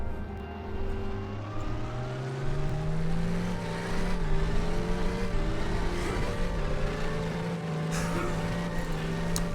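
A custom-ECU-controlled engine in a drivetrain build revs steadily and loudly, its droning tone rising gradually in pitch with harmonic bands sweeping upward across the whole stretch.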